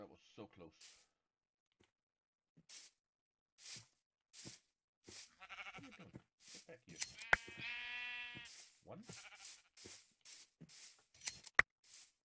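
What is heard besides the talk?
sheep bleating in Minecraft video game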